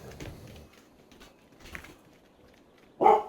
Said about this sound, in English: I apologize for the barking.